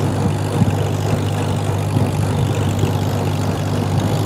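A Farmall M tractor engine idles steadily and loudly with a deep low rumble and a constant drone throughout, no voices present.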